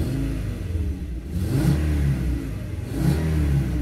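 Volkswagen Golf 4 with a V5 engine and stock exhaust accelerates nearby, with the engine note rising in two revving surges, a mid-pitched rumble that stays loud throughout.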